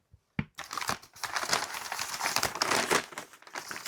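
A thin paper bag used as puzzle shipping packaging crinkles and rustles up close, with continuous crackling handling noise that starts after a brief quiet and runs for several seconds.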